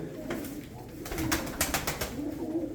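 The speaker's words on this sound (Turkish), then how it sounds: "Gerçekten kuş var, kuşçuk var." Pigeons cooing in a bird loft among show pigeons at an auction, with soft repeated coos rising over steady background noise and a few sharper bird calls.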